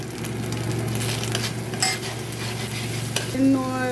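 Garlic sautéing in a pan as tomato sauce, soy sauce and other sauces are added, a steady sizzle with occasional spoon-scraping and stirring clinks, plus a short tonal beep near the end.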